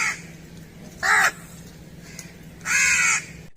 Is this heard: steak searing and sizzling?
no